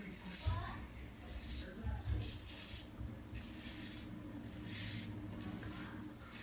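A razor blade scraping against the grain across a lathered scalp during a head shave, with repeated soft rasping strokes at close range, alongside quiet talk.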